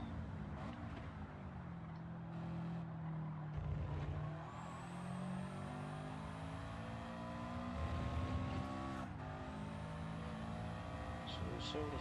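Alfa Romeo 4C racing in Gran Turismo 7, its engine droning steadily with shifting pitch under continuous nearby talk, a second car's sound blending in.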